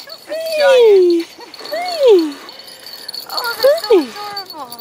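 Korean puppies in Jinsari, Anseong let out several rising and falling high-pitched whimpers and short yips, close and fairly loud, in uneven bursts across about five seconds.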